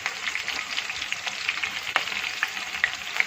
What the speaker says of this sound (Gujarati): તો આવી રીતે થોડી વાર આપણે લીલા મરચાં સાતળી લઈએ